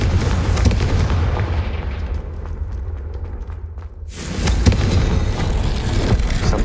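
A loud, booming fiery blast from the Confringo spell in the Hogwarts Legacy video game fills the opening seconds, then eases and surges again with a second rumbling burst.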